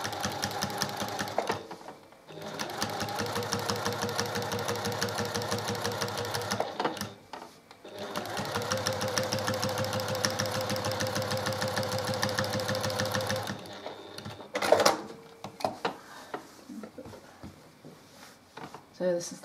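A sewing machine stitches through quilt layers along a seam, running in long steady whirring bursts with short stops between them and a few clunks and rattles near the end.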